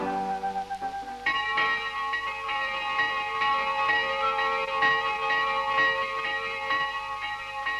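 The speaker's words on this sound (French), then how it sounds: "Le clocher a beau être rudimentaire, l'appel des cloches n'en est pas moins vibrant." Church bells ring out from a rudimentary bell tower in Madagascar. After a brief lower tone, the peals sound repeatedly and resonantly with a sustained, slightly clanging ring. No voices are heard.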